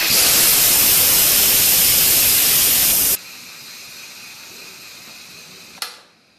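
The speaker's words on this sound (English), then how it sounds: "the quick release, and that means you just turn the steam release handle" An Instant Pot pressure cooker vents steam on quick release, a loud hiss that runs steadily for about three seconds, then cuts off sharply into a faint residual hiss, followed by a brief click near the end.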